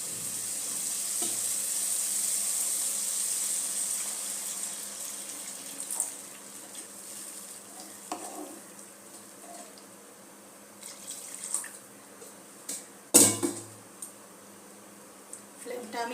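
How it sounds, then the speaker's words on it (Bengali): Water tips into hot fried spice paste for a fish egg curry, bursting into a bright, steady sizzle that fades into quieter bubbling and clatter, with a voice talking over it. "জল দিয়ে দেব।"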